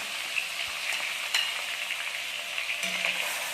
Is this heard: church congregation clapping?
no